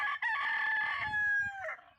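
A rooster crows once, loud and close, in a long sustained cock-a-doodle-doo inside a chicken tunnel attached to a homestead coop, trailing off at the end.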